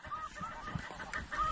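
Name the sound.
snow geese honking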